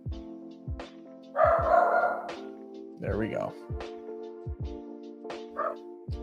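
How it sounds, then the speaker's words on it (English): Dog barking in a home, several sharp separate barks in a loose rhythm close to the microphone, with someone talking briefly over them and a tonal electronic hum running underneath. "my dog is about to start barking again"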